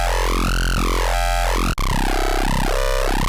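A buzzy FM synthesizer growl, built on a triangle wave in the Phase Plant synth with no effects, sounds continuously, its harsh timbre wobbling and sweeping up and down in a slow, throbbing pattern.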